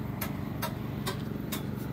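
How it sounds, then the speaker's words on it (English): A street food cook at a Staten Island food wagon chops chicken and lamb on a grill, four evenly spaced metallic taps over a steady low hum of traffic and grill noise. "Guy's cooking it right now. He's chopping it up on the grill."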